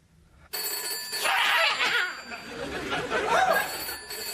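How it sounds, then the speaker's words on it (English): A telephone rings steadily and fairly loud after a brief quiet start, with people chattering and laughing in the background. "Look, it's ringing."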